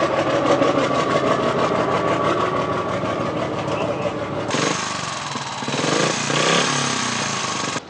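A motorcycle engine runs close by with a loud, rough, rapid pulsing that shifts in tone partway through, while voices are heard alongside.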